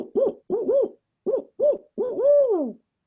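A barred owl calls its eight-note hoot: paired, rhythmic hoots followed by a longer drawn-out final note that slides downward, clear and alone against silence.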